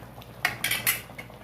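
A spoon gently turning mango fish curry pieces in a pot, three or four soft metallic scrapes and clinks in quick succession, close by, with no talking.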